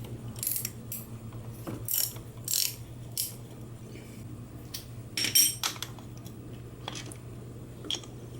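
A ratchet wrench with a 12mm socket loosens the valve cover bolts on a 150cc CF Moto scooter, giving bursts of quick, close metallic clicking separated by short pauses, with no talking.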